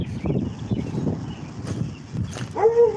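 Dogs barking and whimpering near a gate, sounding close, with yips and a short whine toward the end; a voice may be faintly present in the background.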